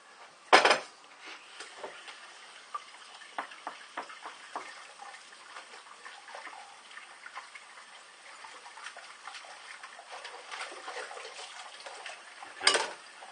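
A shaving bowl is rinsed with water, with ceramic clinks and knocks, a louder clatter at the start and near the end, and quiet splashing and scraping between them.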